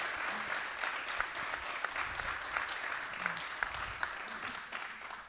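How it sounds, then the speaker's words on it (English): Audience at a Camosun indigenous alumni forum applauding, a dense steady clapping from a mid-sized crowd lasting several seconds, moderately distant with occasional sharper individual claps. "let's give them a big round of applause"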